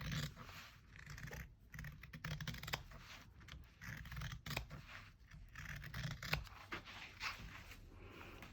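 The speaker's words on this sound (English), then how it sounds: "Take your time cutting around the curve so you get a nice clean line." Scissors cut fabric around a curve for a contour mask, making soft, close snips and crisp shearing clicks in an irregular rhythm, very quiet.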